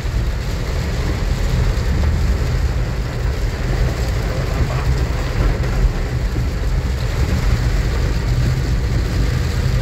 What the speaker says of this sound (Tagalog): Grabe na lakas ang ulan. Wala nang hangin pero grabe ang ulan.